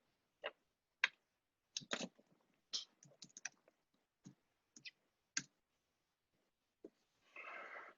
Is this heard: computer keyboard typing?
yes